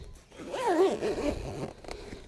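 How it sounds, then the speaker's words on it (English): A zipper being drawn along a fabric carry bag for a folded free-standing awning, one close, steady zip lasting about a second with a short rasping tail. "it's got a zip on it to protect your awning"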